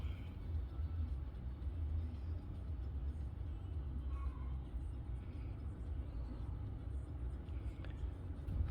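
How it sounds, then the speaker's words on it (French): A Peugeot 308 II engine idles while parked. It makes a faint, steady low rumble that continues unchanged throughout, with no talking. "On laisse tourner la mécanique."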